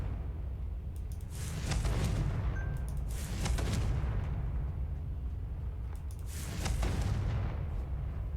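Confringo fire spell blasts in the Hogwarts Legacy game, three loud booming bursts spaced a few seconds apart, each with a crackling explosive tail over a steady low rumble.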